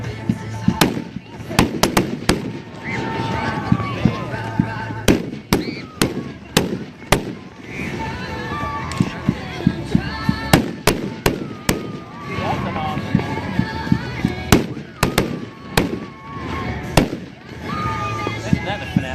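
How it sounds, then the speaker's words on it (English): Dominator consumer fireworks, a jam-packed cake, fire a dense barrage of sharp cracks and booming bursts in rapid irregular succession, loud and close, with crackling between shots and people talking and cheering underneath. "Dominator fireworks"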